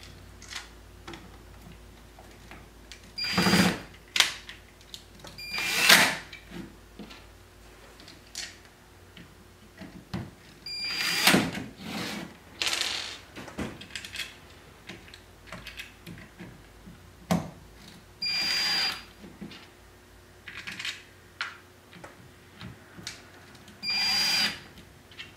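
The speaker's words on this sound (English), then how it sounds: "Replace all the screws." Screws are driven back in with a small power driver while a battery pack is replaced, giving short whirring bursts repeated at irregular intervals, with faint clicks and handling sounds in between.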